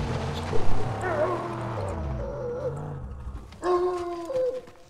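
A dog howls in the Mad Max video game, a long wavering drawn-out cry near the start, then a brighter rising howl near the end, over low game rumble and faint ambience.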